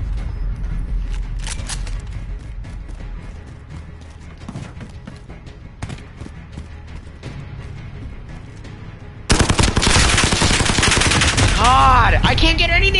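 Rapid automatic gunfire from a small high-recoil gun in Call of Duty Modern Warfare rattles in bursts, growing louder and denser toward the end amid other in-game battle noise.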